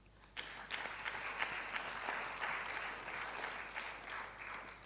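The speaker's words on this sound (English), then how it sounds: "Clap for him," An audience claps at a public lecture of the Ghana College of Physicians and Surgeons, a sudden burst of dense, steady applause that holds at an even level after a brief quiet start, with no talking over it.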